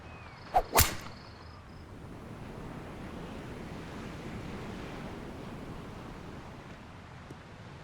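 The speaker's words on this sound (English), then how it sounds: "good swing and a good result, as that is safely into the fairway" A golf club swing and ball strike in the EA Sports PGA Tour video game, two sharp close whooshing cracks in quick succession, followed by a soft wind-like ambient wash; no talk.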